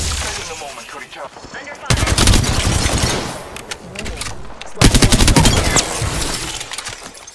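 Bursts of rapid automatic gunfire in Apex Legends, loud and close, come in two long volleys with short gaps between them, mixed with game effects and character voice lines.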